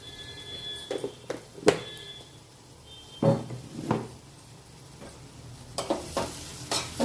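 Ivy gourd (tindora) frying in a pan with salt, stirred now and then; a low sizzle runs throughout, broken by several sharp scraping clanks of the utensil against the pan, with no talk.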